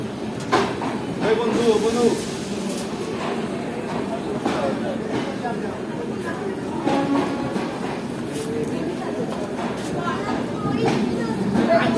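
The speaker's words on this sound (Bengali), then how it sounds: "ফারাক্কা এক্সপ্রেস ঢুকছে এখন মালদা টাউন রেল স্টেশনে।" The Farakka Express rumbles and hisses as it pulls into Malda Town station, a steady mechanical roar with occasional clanks, voices murmuring in the background.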